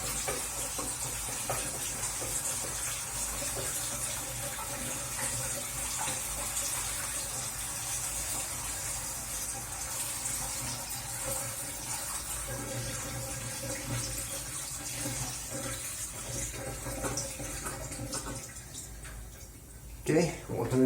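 Water drains from a 3-in-1 washer tank that has a leak, a steady close rushing and gurgling hiss that continues throughout, ending in a few short knocks.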